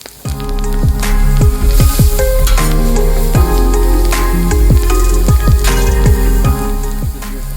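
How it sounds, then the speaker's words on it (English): Onions sauté in butter and flour on a discada, sizzling loudly and steadily while a utensil repeatedly scrapes and stirs across the metal surface. "This is a good time to add and saute the onions."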